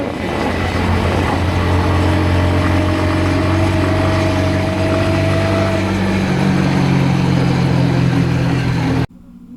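Motorcycle engine droning steadily while riding a smooth, curving road near the Kaybiang tunnel, loud and continuous with shifting pitch, then cutting off abruptly at the end.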